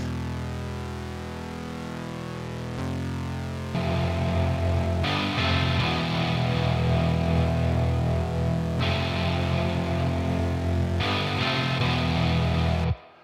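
Distorted retro synth layered with a metal drum track built in Logic Pro, a dense, loud, buzzing wall of sound with heavy low end, ending abruptly.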